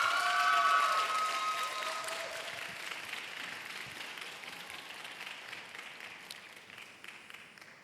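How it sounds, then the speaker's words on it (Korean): Church youth congregation applauding to welcome people during a Sunday young-adult worship service; a broad wash of clapping that starts loud and gradually thins out over several seconds, with no talking. "박수로 환영하겠습니다."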